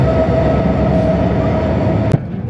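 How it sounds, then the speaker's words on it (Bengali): Mohanagar Probhati passenger train pulling into Laksam Junction, a loud, steady rumble of wheels and carriages rolling close by, ending with a sharp metallic clank. "এই যে আমার ট্রেনটা আসতেছে"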